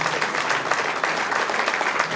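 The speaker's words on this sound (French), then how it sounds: "applaudissements quand même à ces coureurs et coureuses" Audience applause for runners at an FSGT running challenge, a dense, steady wash of many hands clapping close by, continuous and fairly loud from start to finish.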